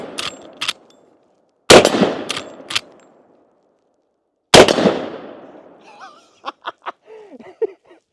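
Two loud, sharp rifle shots from a Henry All Weather lever-action in 45/70, each ringing off a steel plate target outdoors with a long decaying tail, followed by faint voices and brief laughter.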